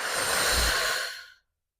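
A single long, breathy exhale during a mat Pilates exercise, close and steady for over a second before fading into silence.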